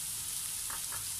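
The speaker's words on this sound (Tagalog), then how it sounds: "saka natin gigisahin ang ating sibuyas" Onion being sautéed in a pan for a chicken dish, giving a steady soft sizzle with a few brighter crackling bursts midway, close and continuous with no talk.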